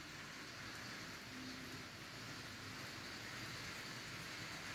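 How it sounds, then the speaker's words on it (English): Torrential rain falls heavily on a Wednesday morning, a steady, dense hiss with no breaks, fairly faint and distant in a wide wash of sound, with no one speaking. "And this morning we have torrential rain."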